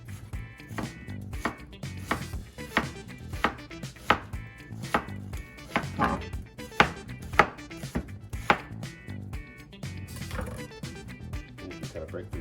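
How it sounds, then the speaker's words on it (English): A knife slices through an onion on a cutting board in a quick, steady series of crisp thuds, close and fairly loud, for a stir fry. "Now we slice."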